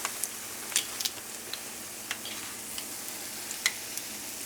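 Funnel cake batter frying in hot oil, a soft steady sizzle with scattered small pops and crackles, quiet and close, with no talking.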